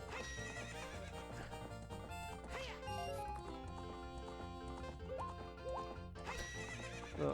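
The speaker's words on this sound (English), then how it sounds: "Get on the horse, Link." A horse from The Legend of Zelda: Ocarina of Time neighs several times as its hooves clop steadily, all set against a busy, full game soundtrack that stays loud throughout.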